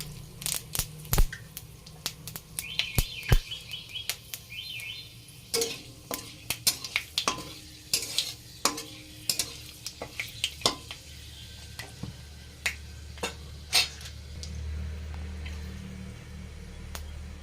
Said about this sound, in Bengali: এবার ওই ভেজে রাখা তেলে ফোড়ন দিয়ে দেবো।